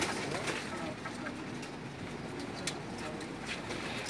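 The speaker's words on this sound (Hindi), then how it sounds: "चलिए अभी आपको दूसरे कबूतर दिखाते हैं।" Soft, steady cooing from pigeons on a rooftop loft in Jeddah forms a low murmur, with distant outdoor ambience running underneath.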